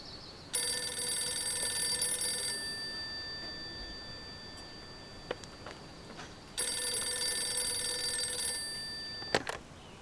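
A telephone rings in two long bursts of bright, trilling bell tone separated by a quiet gap, loud and close with no voices.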